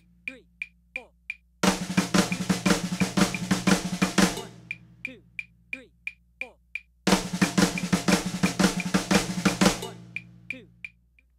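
A snare drum plays the flam-based bludgeon rudiment over a click track: a steady metronome ticks alone, then two bursts of rapid flammed strokes with diddles lock to it, each fading back to the bare clicks.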